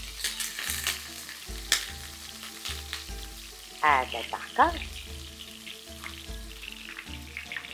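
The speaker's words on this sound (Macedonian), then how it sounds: "И ќе го оставам сега на кривок оган да се пржи." Onion for a traditional Macedonian posno makalo spread, still full of water, sizzles steadily in a hot small pan over low heat. The close, constant frying crackle carries on beneath brief speech and a few stirring clinks.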